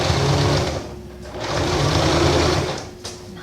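A sewing machine stitches fabric piping with a loud, steady whir. It comes in two long runs with a short slowdown between them and eases off near the end.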